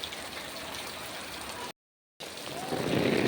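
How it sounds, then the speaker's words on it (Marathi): Heavy monsoon rain pours steadily in Panvel as a dense, even hiss that cuts out briefly to silence, then returns slightly louder. "पाऊस पण भरपूर पडतोय"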